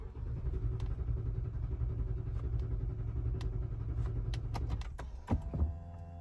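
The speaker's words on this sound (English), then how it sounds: "that just cranked and cranked. Nothing started." A Toyota Lexus LX truck engine cranks steadily without catching, a low rumbling churn that runs for several seconds before stopping with a few clicks and knocks.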